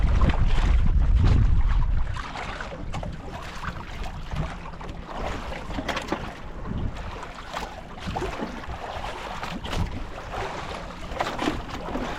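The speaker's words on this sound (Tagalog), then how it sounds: "Ang alon oh." Sea waves wash and slosh around a small fishing boat out on open water, a continuous rough rush blended with wind buffeting the microphone, loudest at the very start and then settling into a steady churn.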